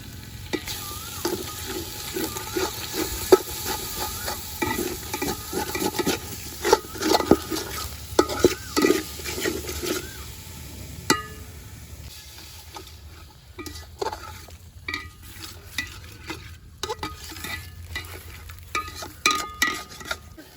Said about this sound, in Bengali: এই স্টমাকগুলো দিয়ে দিচ্ছি, দিয়ে ভালো করে কষে নেব।